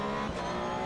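Race car engine in Assetto Corsa EVO held at a steady, loud drone while short shifting through an apex, with a brief change in tone partway through and no talking.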